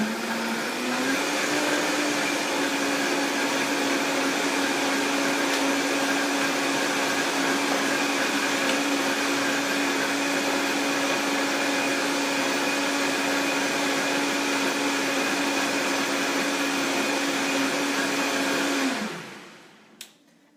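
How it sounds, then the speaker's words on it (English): A blender whirs loudly and steadily at a single pitch while mixing a gut-healing smoothie, running close by for about nineteen seconds before spinning down to silence. "we're going to turn on our blender"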